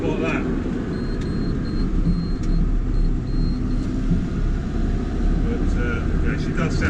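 A tractor engine runs steadily, giving a continuous low rumble at close range with an even, unbroken drone throughout.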